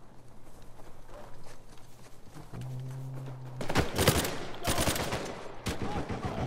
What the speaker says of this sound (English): I shoot them all down.